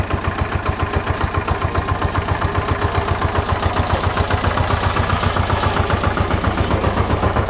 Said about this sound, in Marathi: आपलं इंजिन जेट इंजिन तयार आहे पुढे जाण्यासाठी